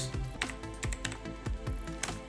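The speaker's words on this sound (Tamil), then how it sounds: "அப்போது டைப் பண்ணுவோம்" Someone types on a computer keyboard in a steady run of crisp, close key clacks, several presses in quick succession with short gaps, and no voices.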